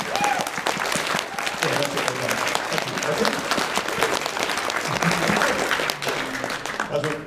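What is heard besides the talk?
audience applause at convention hypnosis show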